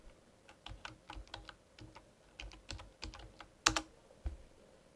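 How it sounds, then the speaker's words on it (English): A password typed on a computer keyboard: quick, uneven runs of close, crisp key clicks with one sharper tap near the end. "And we'll type in the password."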